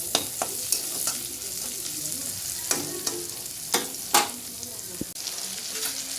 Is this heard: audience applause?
no